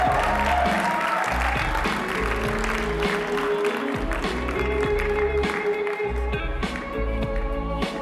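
Crowd applause at a wedding reception in Punta Cana for the groom's parents, steady clapping over loud bass-heavy music, with the music dominating.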